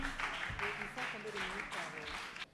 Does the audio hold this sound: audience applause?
yes